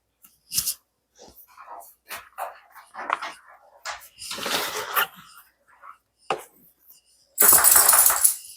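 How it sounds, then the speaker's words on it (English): A pet dog lets out scattered short yelps and whimpering barks in a home kitchen during sourdough bread shaping, with a louder noisy burst near the end. "My dog likes to make noise every time I do a clip."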